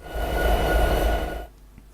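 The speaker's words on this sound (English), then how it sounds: "Watch as the train ahead pulls forward and how Signals change as a result." Diesel train rolling along a line divided into signal blocks in Train Simulator 2016: a steady low rumble with a faint tonal whine, holding level for about a second and a half before cutting off to near silence.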